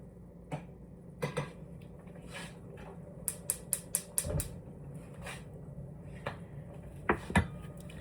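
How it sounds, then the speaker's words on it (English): A metal fork stirs pasta in a pot, giving sparse clinks and scrapes against the cookware, with a quick run of sharp taps midway and a couple of louder knocks near the end over quiet room background. "Use a fork to stir my pasta."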